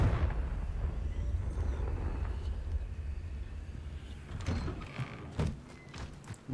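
A Confringo fire spell explodes in the Hogwarts Legacy video game, a dense low rumbling blast that trails off, with a few sharper thuds and crackles near the end.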